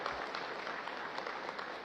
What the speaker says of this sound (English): A well-deserved round of applause for the outgoing Chief of Staff, General Andres Castor Centino.